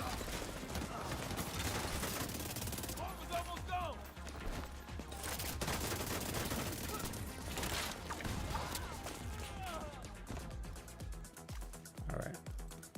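Dense, continuous SMG fire in The Division 2 runs almost without pause, loud and close, with short gaps and bursts, plus occasional mechanical reload clatter and brief voices.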